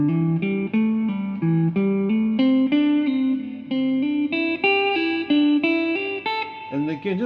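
An electric guitar plays a slow triplet scale exercise using hammer-ons and pull-offs, clean, smoothly connected notes stepping steadily up the scale at an even pulse.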